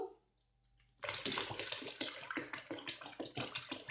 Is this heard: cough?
no